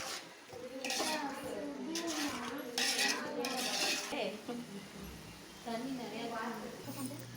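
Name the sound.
sautéing masala and onions in a pan for mutton biryani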